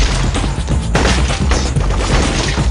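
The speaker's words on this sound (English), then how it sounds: "A real gunshot in any space will have ringing echo that bounces all around the player, surrounding and enveloping them" Gunshot sound effect from a first-person shooter game, a loud dense burst of booming shots with heavy low end that blur together and keep ringing throughout, with no voices.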